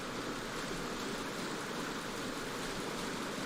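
A waterfall in Dark Souls Remastered rushes as a steady, even wash of falling water, faint and unbroken throughout with no voices.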